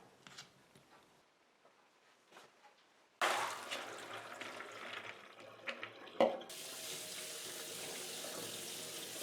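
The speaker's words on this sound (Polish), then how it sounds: "Po tym czasie zlewamy wodę i porządnie płuczemy pod bieżącą wodą." Soaked chickpeas rinsed under a running kitchen tap: a steady, loud stream of water splashing into a sink starts abruptly partway through and keeps flowing, with a few earlier soft clinks before it.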